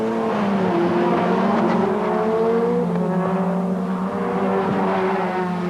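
White BMW touring cars with 2.3-litre engines racing in the 1988 British Touring Car Championship, a loud continuous multi-engine drone with shifting revs as the pack runs close, no voices over it.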